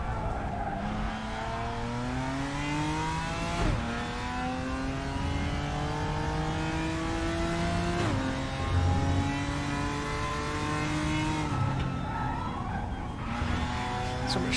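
Race car engine in the RaceRoom racing game, a loud continuous whine that climbs in pitch, drops abruptly with each downshift on braking into a hairpin, then climbs again.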